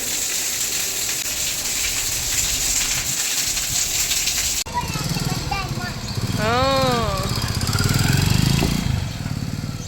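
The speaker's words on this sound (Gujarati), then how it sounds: "જો તમને બતાવું જોરદાર વરસાદ" Heavy rain with wind pours down outdoors as a steady, loud broadband hiss, then continues beneath a person talking close by for the second half.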